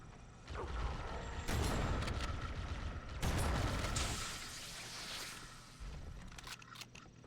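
Gunfire in Halo: Combat Evolved rattles in dense bursts of shots and mechanical clatter, loud and close, with brief lulls between two heavy volleys and no talking.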